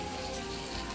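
Eggs and locust flowers poured into a pan of frying green and red peppers, giving a steady, dense sizzle and crackle close by throughout, with no talk.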